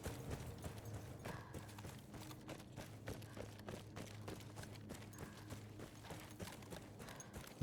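A horse's hooves clip-clop at a steady trot in the Battlefield 1 game, a quick even rhythm of moderate, close hoofbeats over faint background ambience, with no talking.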